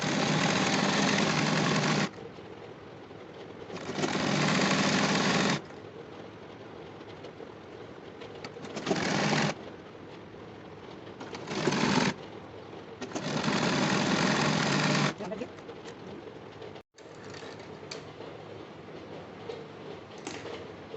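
A sewing machine stitches a salwar in several close, loud bursts of rapid whirring, each lasting a second or a few seconds, with quieter pauses between them and no talking.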